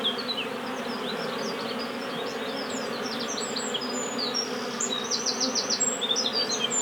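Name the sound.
honeybees buzzing while returning to hive with pollen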